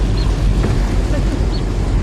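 Heavy rain and water splashing around a vehicle while driving, a dense rushing, hissing wash with low rumble throughout, loud and close, with a voice faintly underneath.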